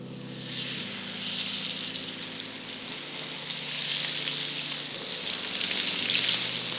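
A supermarket steak searing in a frying pan, giving a loud, continuous sizzle that swells slightly as the pan is shifted around.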